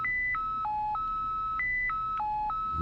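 A Radioddity HD-1 heavy-duty FRS/PMR radio plays a short electronic tone melody: clean stepped beeps hopping between a few pitches in a repeating pattern, heard alone and close with faint background hiss.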